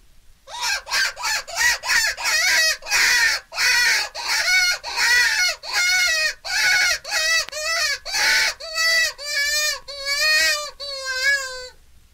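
A hunting distress call imitating a rabbit, bird or rodent in panic: a series of about twenty shrill, wavering squeals in quick bursts, loud and close, with no talking over them.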